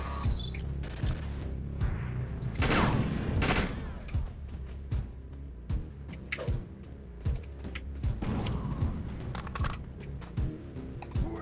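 Gunfire in the shooter game Defiance pops in steady, spaced shots with a couple of louder blasts early on, close and punchy, mixed with clicky keyboard taps.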